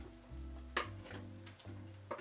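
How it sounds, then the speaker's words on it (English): Seaweed goes into a pan of boiling water, giving a soft hiss and bubbling with a couple of faint clinks against the pan. The sound is quiet and close. "So the water is boiling now,"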